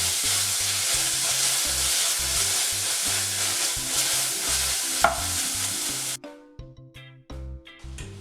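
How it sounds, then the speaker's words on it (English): Figs go into a hot pot with a loud, continuous sizzle that runs for about six seconds and then cuts out. Stirring scrapes and clatters continue in the quieter seconds that follow. "we add these figs to a hot pot"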